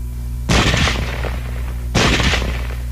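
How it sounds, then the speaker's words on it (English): Two separate bursts of rapid gunfire from a firearm with selectable automatic and semi-automatic fire, each lasting roughly a second and a half, loud and close, separated by a brief gap with no voices. "Now let's look at weapons which have both automatic fire and semi-automatic fire."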